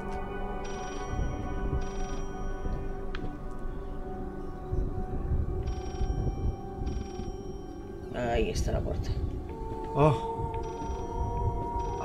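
A telephone rings in short repeated bursts inside the Layers of Fear horror game, steady and fairly clear behind game ambience, with someone briefly talking over it.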